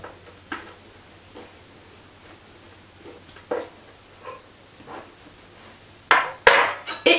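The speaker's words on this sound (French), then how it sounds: "c'est de prendre un morceau de pain ou de pain des fleurs et y étaler de l'huile de coco" A knife spreading coconut oil on a piece of bread, heard as faint scattered scrapes and soft clicks over a quiet hum, then a louder cluster of clattering knocks at the end.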